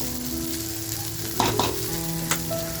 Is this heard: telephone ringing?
no